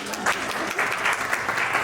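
Steady applause from a crowd, dense clapping that carries on without pause for a couple of seconds.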